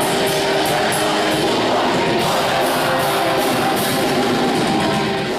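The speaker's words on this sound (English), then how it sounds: "when thousands of Brazilians sing along to Portuguese language, it sounds like this." Thousands of Brazilian fans at a concert singing together in Portuguese, a dense, continuous roar of massed voices that fills the space at steady loudness throughout.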